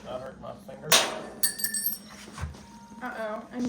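A small self-tapping screw drops during drilling work and lands with a bright metallic clink, followed by a few lighter ticks as it bounces, with voices talking nearby.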